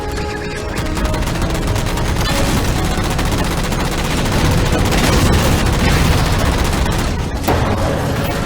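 Heavy automatic gunfire in the video game Halo 4 as jammers are shot down: continuous, loud, rapid shots with booming impacts that last the whole time.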